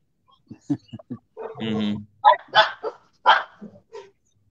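A dog barks close and loud, with several short yips followed by a longer growling bark and more sharp barks in an uneven burst.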